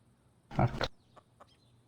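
A short burst of clucking from a chicken in Counter-Strike: Global Offensive, followed by a couple of faint, brief clicks in a quiet background.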